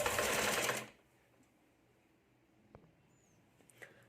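A sewing machine stitches the lining of a katori blouse in one short, loud whirring burst, then falls quiet apart from faint ticks and rustles.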